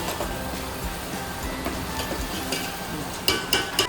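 Garam masala cooks in hot oil in a home kitchen while biryani is being made, giving a steady close sizzle and frying hiss with a few sharp utensil taps near the end.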